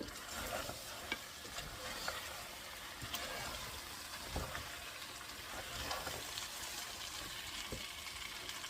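Beef kala bhuna being stirred and sautéed in a pan, with a steady sizzle broken by repeated scraping stir strokes throughout, fairly close and continuous.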